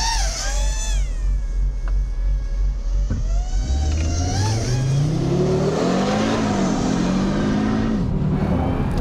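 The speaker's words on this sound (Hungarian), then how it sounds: "ez szériában is brutál jól rajtol a alap utcai gumival" An Audi TT RS on street tyres launches hard from a standstill, its engine roaring up through rising revs with a gear change, loud and close throughout.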